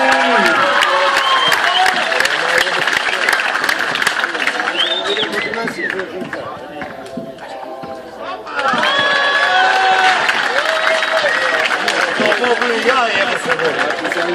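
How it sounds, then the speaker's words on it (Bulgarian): A crowd cheers and applauds at a basketball dunk contest in Rakovski, Plovdiv, a loud, dense roar that dips briefly midway and then surges back, with a voice talking over it. "да чуем вашите аплодисменти!"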